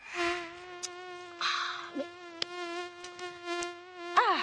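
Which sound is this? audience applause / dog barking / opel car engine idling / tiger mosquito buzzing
tiger mosquito buzzing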